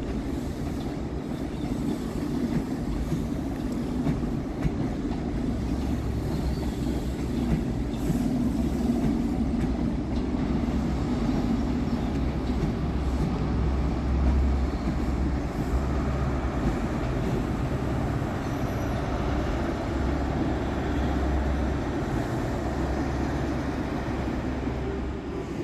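A CrossCountry HST with power cars 43207 and 43366 works through Birmingham New Street station, a steady low diesel rumble and drone holding at a constant level throughout, with no speech.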